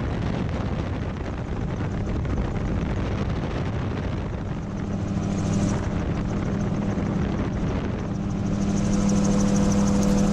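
Gyrocopter in flight, its rotor and engine droning steadily and loudly throughout, with a constant buzzing engine tone and whooshing rotor noise and no speech.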